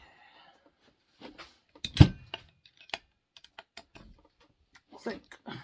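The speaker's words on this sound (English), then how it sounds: "Click. My torque wrench. Make sure they're all torqued properly." A torque wrench clicks while bolts are tightened during a cylinder swap on a reed saw, giving one loud sharp click followed by scattered lighter clicks and taps, fairly close.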